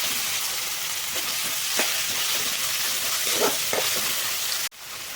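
Tomatoes fry in oil in a pan for a spicy idli dish, with a steady close sizzle, a few soft stirring scrapes and an abrupt drop near the end.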